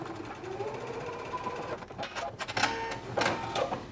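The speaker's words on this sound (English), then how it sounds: "I'm going to sew the shoulder seam of the facing now," Domestic sewing machine stitching the shoulder seam of a dress facing with backstitching at each end, a steady close mechanical whir with a few louder bursts toward the end.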